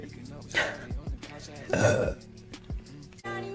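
A woman gives a couple of short, throaty burps, the strongest one midway, with brief vocal noises around them.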